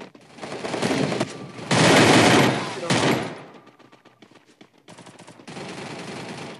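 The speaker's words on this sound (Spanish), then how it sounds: "No podía escuchar por los disparos" Loud bursts of rapid automatic gunfire, rattling in long sustained volleys with short gaps between them.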